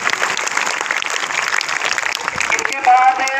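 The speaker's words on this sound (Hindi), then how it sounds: "तो इन बच्चों के लिए जोरदार क्लैपिंग।" Students at a school award ceremony for top monthly test results get a sustained round of applause from the gathered crowd, a dense steady clapping that runs the whole time, with a voice rising over it near the end.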